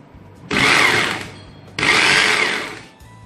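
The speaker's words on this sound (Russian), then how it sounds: "Итак, собрали мы наш перфоратор и проверяем его после сборки." A Bosch GBH 2-26 rotary hammer test-run after repair: two loud close bursts of whirring, rattling hammer action, each lasting about a second, separated by a short pause.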